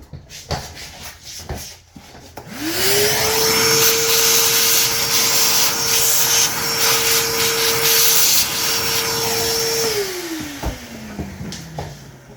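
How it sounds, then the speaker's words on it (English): A vacuum cleaner starts up with a rising whine, runs steadily and loudly for several seconds, then winds down with a falling pitch, cleaning chunks from a Kawasaki KX100 motorcycle engine's clutch side. "let me grab the vacuum."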